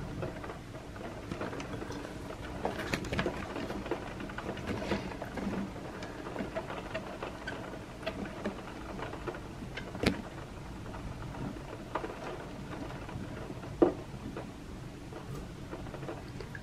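Rain falls steadily near a rough ocean during a thunderstorm, a continuous hiss and patter broken by sharp close thunder cracks and rumbles scattered throughout.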